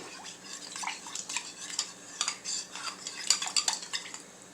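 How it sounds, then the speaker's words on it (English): A spoon scrapes and clinks against a bowl while sauce is stirred with brown sugar, giving a quick run of light, close-up taps and scrapes with no voices. "So we're going to mix this and just leave this here off on the side"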